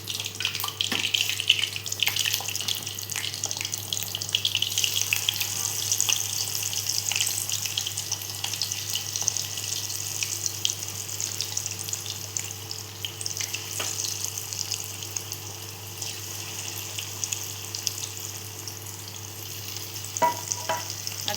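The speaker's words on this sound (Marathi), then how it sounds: "आता हे पण आपण असेच फ्राय करून घेऊया." Mushroom pakoras fry in hot oil, a steady, moderately quiet sizzle that runs continuously with small crackling bursts, no voices over it.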